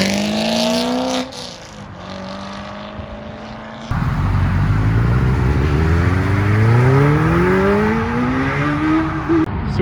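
A car with a choppy cammed engine rolls out of a car meet, its loud, lumpy idle revving up in rising and falling sweeps as it pulls away close by.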